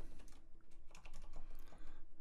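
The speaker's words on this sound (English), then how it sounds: "You're going to type in" Numbers are typed quickly on a computer keyboard while setting a fixed-ratio crop size in Paint.NET, a short, close, quiet run of rapid keystrokes with no voices.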